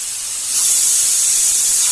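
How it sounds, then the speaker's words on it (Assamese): A pressure cooker vents steam while cooking fish in an oil-free Assamese kitchen: a loud, steady, close hiss that swells after a brief quieter start and then holds without break. "মোৰ প্ৰেছাৰ কুকাৰে চিটি লগাইছে"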